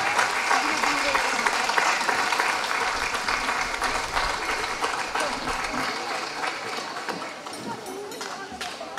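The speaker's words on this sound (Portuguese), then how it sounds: "Um forte aplauso" Sustained applause from an outdoor crowd at the opening ceremony of a folklore festival in Barcelos, a dense steady clatter of clapping holding loud across the whole stretch.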